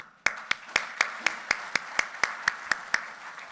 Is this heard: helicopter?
no